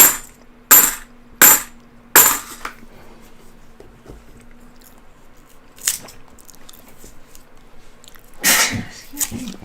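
Three quick, sharp sneezes burst out close together at the start, with another sneeze-like burst near the end, over faint rustling and a low hum.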